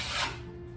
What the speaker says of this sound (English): you take the trowel and you squeegee the rest off just like so